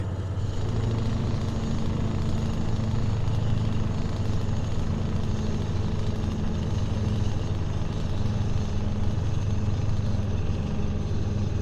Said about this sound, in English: Oh, I love the sound of this truck so much.